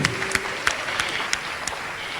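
Scattered applause from a small crowd at a Garib Kalyan Saptah government welfare event in Bhopal, Madhya Pradesh: a few sharp, separate claps spaced at uneven intervals over a low room murmur, with no clear speech.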